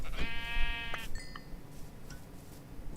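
A single sheep bleat sounds in the Minecraft video game, one wavering synthetic bleat of about a second over a steady background hum, followed by faint game noises.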